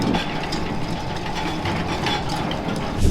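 GoJacks roll a toy Jeep off a trailer bed and into a shop, making a continuous, loud rattling grind of wheels and mechanisms over a low rumble.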